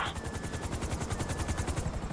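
A helicopter in the video game GTA V chops overhead in a fast, steady rotor beat, loud and close, with a rattling burst like gunfire near the start.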